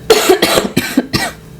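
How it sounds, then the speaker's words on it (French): Four harsh coughs in a row, close and loud, evenly spaced with brief gaps between them. "Bon, je tousse un petit peu aujourd'hui."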